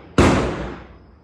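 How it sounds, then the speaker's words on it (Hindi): A single sharp firecracker bang bursts outside during Diwali, loud and sudden, its crackling tail fading away over about a second with no other sounds around it. "लोग पटाखे बोल रहे हैं"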